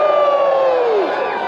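A festival crowd at a Dickens holiday celebration in Fayetteville, North Carolina, cheers and whoops together in one loud, sustained burst that swells briefly and then starts to fade.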